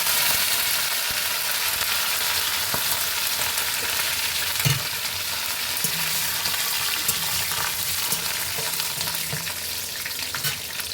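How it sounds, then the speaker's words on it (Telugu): Green chillies and then curry leaves drop into hot oil for a tempering, giving a steady, close sizzle and crackle with occasional stirring scrapes, with no voices over it. "ఇప్పుడు ఆయిల్ వేడెక్కాక ఫస్ట్ పచ్చిమిర్చి వేసుకోవాలండి"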